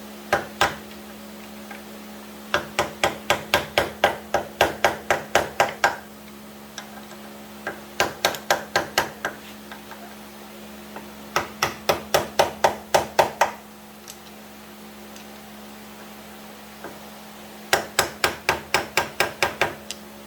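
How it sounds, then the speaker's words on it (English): A hammer drives a screwdriver to bend tabs on a Yamaha Vmax 1200 swingarm, making close, sharp metallic taps in rapid bursts of about eight to ten strikes separated by pauses. "Get up there with your hammer and your screwdriver. It's got a couple little tabs up in there you have to bend out of the way."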